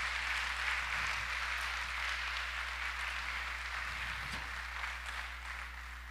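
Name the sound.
congregation applauding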